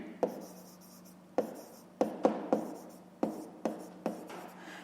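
Pen or pencil writing by hand on paper while working a fifth-grade math exercise, a series of short, sharp scratching strokes in irregular bursts, close and quiet, with no talking.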